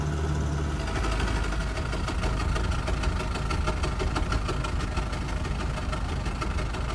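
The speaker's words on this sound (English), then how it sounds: "An old tractor engine. Oh mate, you listen to it when we slow right down." Albatros D3 biplane engine in Microsoft Flight Simulator 2024, chugging steadily at low speed with an even, pulsing rumble that continues unbroken throughout.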